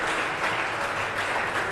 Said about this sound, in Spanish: Démosle un aplauso de alabanza al Dios Todopoderoso.